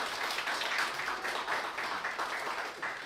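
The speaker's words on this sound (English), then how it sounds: "a big round of applause to welcome Rita" An audience applauds to welcome a guest lawyer speaker at an evening talk, a steady broadband wash of clapping lasting about three seconds at moderate, even loudness with no voices over it.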